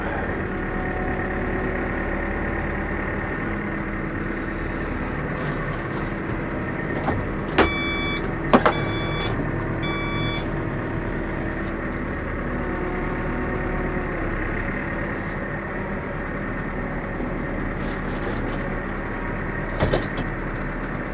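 A large Claas Arion 470 tractor engine runs close by at a steady, rumbling idle, with a few brief metallic clicks and clanks partway through.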